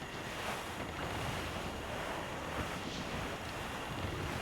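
The ship Jackdaw sails the open sea in Assassin's Creed IV Black Flag, with a constant rush of wind and surging waves, loud and steady, with no voices.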